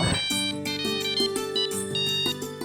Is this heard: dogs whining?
no